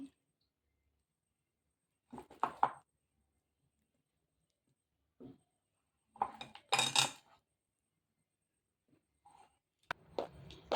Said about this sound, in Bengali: এই যে এখন আমি বাটারটা হাঁড়ির মধ্যে দিয়ে দিচ্ছি